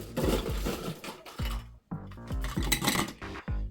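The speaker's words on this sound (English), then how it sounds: "But let's just put a little ice in the cup." Ice cubes dropped into a cup for a tailgate cocktail give a run of close, bright clinks and knocks that come in quick uneven bursts with short pauses.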